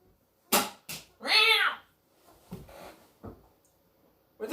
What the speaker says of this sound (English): Where'd the cat come from?